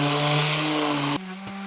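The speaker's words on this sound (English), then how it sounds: "I'm going to do a quick sand on these" A power sander whirs loudly and steadily against wooden shelf boards, then drops to a quieter motor hum near the end.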